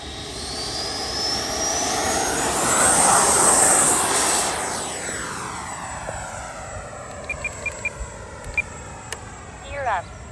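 Freewing Avanti S V2 80mm EDF sport jet on its maiden flight, a loud whining ducted-fan roar rising in pitch as it passes overhead, peaking and then sweeping down as it flies away, with a few faint clicks toward the end.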